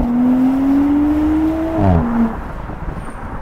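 A 2017–2020 Audi SQ5 engine pulls while driving, a steady rising drone that swells, then breaks into a quick gear-change dip before settling lower, with road noise beneath and no talk.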